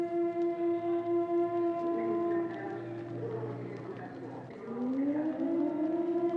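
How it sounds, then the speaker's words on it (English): An air raid siren in South Korea in 1975 wails with a steady, pulsing tone, then dips and rises again in a long howl, its wide sound filling the air. "Those who don't obey the sirens are chased into cover"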